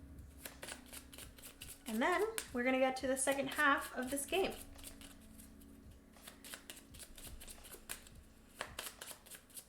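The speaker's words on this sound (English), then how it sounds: "We're going to shuffle them again." Game cards for a solo draw-and-write board game are shuffled, with a brief run of riffling and flicking papery snaps. A person talks over the shuffle and keeps talking afterward.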